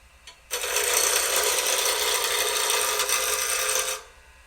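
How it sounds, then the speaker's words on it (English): A wood turning tool cutting straight into a spinning workpiece on a lathe: a steady, bright scraping hiss lasting about three and a half seconds, close and loud, then stopping cleanly, with no voice. "You're coming straight into your workpiece and making your cut."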